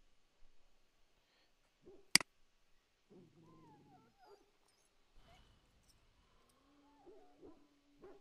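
A single sharp dog bark bursts out in the video game Dragon Age: Origins, followed by whimpering and whining, with scattered game sound effects and a low hum around it.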